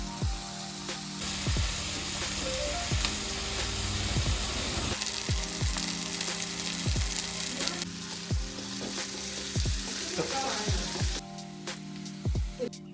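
Green chilli and ginger fry in hot oil for a crab dish, a bright steady sizzle with repeated dull knocks of a utensil stirring in the pan, close and continuous.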